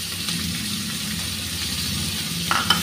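Garlic, onion and green chili fry in hot oil with a constant close sizzle, a few stirring scrapes and small clinks near the end.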